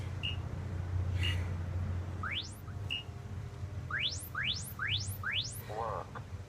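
A workout interval timer gives short beeps followed by a run of rising chirp tones, fairly faint over a low background hum, with a voice briefly at the end.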